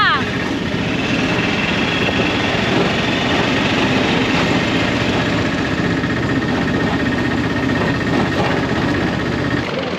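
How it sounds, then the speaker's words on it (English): An auto rickshaw engine runs steadily during a ride through India, a loud, continuous mid-pitched rumble with constant road and traffic noise around it for the whole stretch. "Whoa, the tuk-tuk ride of India."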